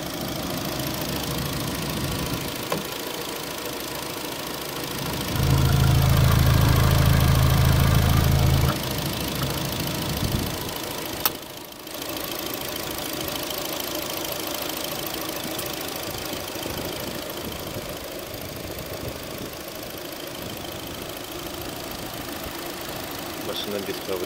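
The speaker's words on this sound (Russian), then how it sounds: "Мотор работает очень хорошо." A 2011 Hyundai Sonata with a 2-litre petrol engine idles steadily close by, an even mechanical hum with a brief louder low burst partway through, while someone talks over it.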